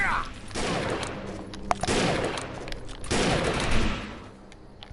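Sustained rapid gunfire in the shooter video game Defiance, loud, dense bursts of shots rolling on for several seconds with brief gaps between volleys.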